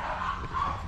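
A dog gives a short bark or yip over steady, noisy background sound.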